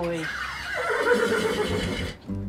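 A horse whinnies loudly and close, a long wavering neigh that rises and then falls away, with a voice speaking just before and after it.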